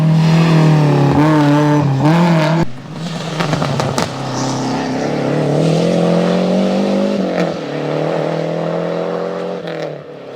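A rally car on a special stage at the Rallye Côte Fleurie roars past loud and close, its engine note dropping under braking and then climbing again as it accelerates away.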